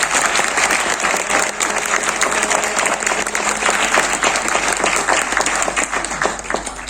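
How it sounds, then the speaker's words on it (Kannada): Loud, sustained clapping from an audience at a classical music concert, dense and continuous throughout with no voices over it. "ಕುಮಾರ್ಗೊಂದು ದೊಡ್ಡ ಚಪ್ಪಾಳೆ ಹೊಡ್ಬಿಟ್ಟು ನನಗೆ."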